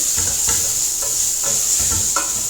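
Tomato and turmeric mixture being stirred in a pan for roasted raw mango rasam, with a steady sizzle and soft rhythmic scraping strokes repeating about every half second, close and fairly loud.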